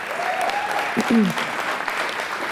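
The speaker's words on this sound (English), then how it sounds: "you can clap for that" Applause breaks out from a town hall crowd at a Chicago West Side community safety meeting, moderately loud and steady, with a voice briefly rising over the clapping partway through.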